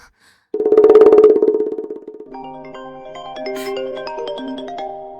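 A telephone rings in an office setting with one loud buzzing burst, then fades into a softer melodic ringtone that continues, with no talk over it.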